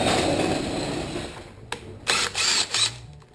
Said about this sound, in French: j'enlève mes deux boulons